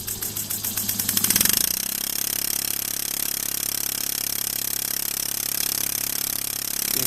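A small model runner steam engine starts up with quickening puffs, then settles into a steady, fast, even chugging rhythm that carries on close and clear with no talk.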